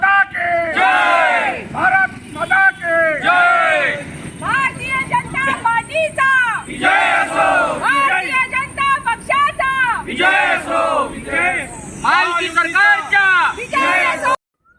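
A crowd in Thane celebrating Narendra Modi's swearing-in, loud rhythmic group chanting and cheering close by, continuous and energetic throughout.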